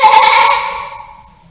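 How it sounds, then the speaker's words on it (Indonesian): A horned ram caught in a thicket lets out a single loud, drawn-out bleat that fades away slowly. "Dalam semak belukar nampak seekor domba jantan yang tanduknya tersangkut"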